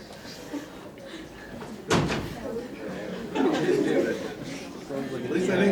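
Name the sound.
door being closed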